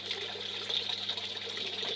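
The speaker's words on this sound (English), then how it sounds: "The water is flowing, water is flowing underneath the media." Water runs steadily through the media of an aquaponics grow bed, a constant soft trickling and gurgling wash with no voices.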